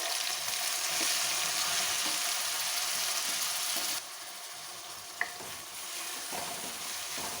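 Chopped onions dropped into hot oil with cumin seeds sizzle loudly and steadily, then the frying settles to a slightly softer continuous hiss with a brief clink of utensils.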